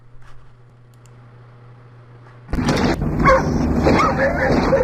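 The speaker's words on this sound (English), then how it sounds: "So you can hear them killing the dogs." Dogs bark and whimper during a shooting at Waco, sudden loud yelps and cries erupting after a quiet, humming stretch and continuing in a harsh, chaotic burst.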